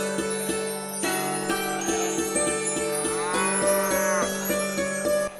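A cartoon buffalo moos in a long, drawn-out call that rises and falls over steady background music with faint bell-like jingles, loud and close with no talking.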